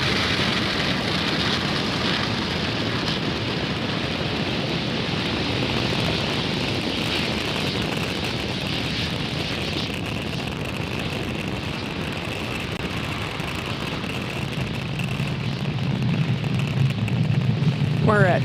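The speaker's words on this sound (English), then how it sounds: "Falcon 9 has successfully lifted off from Space Launch Complex 40, carrying the Astra 1P satellite" A SpaceX Falcon 9 rocket lifting off from Space Launch Complex 40 carrying the Astra 1P satellite gives a sustained, heavy roar with crackling rumble, steady and powerful for the whole stretch, loudest near the end.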